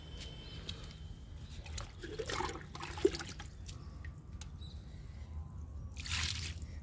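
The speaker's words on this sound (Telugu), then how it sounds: "ఇప్పుడు వాటర్ ఇస్తున్నానండి ఈ పూల మొక్కకి" Quiet splashes and trickles of a little water poured onto already damp soil in a flower plant's pot, with a few soft drips and wet squishes, fairly close.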